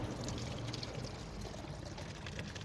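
Water pours steadily from a hand pump in a soft, continuous gush, fairly quiet and close, with no talking.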